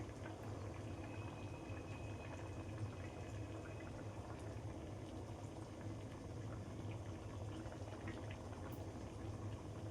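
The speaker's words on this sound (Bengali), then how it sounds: "এটা অলরেডি ফোটা শুরু হয়ে গেছে।" Vegetable curry made with ash gourd greens boils steadily in a pot, a dense, continuous bubbling and simmering hiss that holds at an even level throughout, with no talking.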